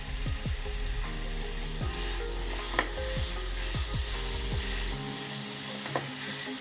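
Spoon stirring and mixing a sweet potato puri mixture in a pan, repeated scraping strokes in an irregular rhythm over a soft sizzle, close and clear, ending with lighter scrapes.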